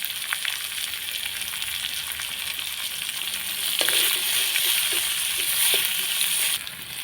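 Pirandai (adamant creeper) sautéing in a pan gives a steady, close sizzle throughout, with a few soft scraping stirs and a slight rise in intensity midway.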